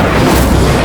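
A single Incendio fire spell in the video game Hogwarts Legacy erupts as a short, loud, close explosive boom with a full low-end burst.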